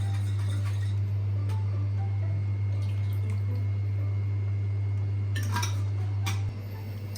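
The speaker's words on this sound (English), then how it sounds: "rinse out this bottle with a little bit of water and put it right in there" Water swished out of a tomato sauce bottle is poured into a pan of tomato sauce in a home kitchen, heard as scattered drips and light splashes with a brief wetter burst near the end, over a steady low hum and no talking.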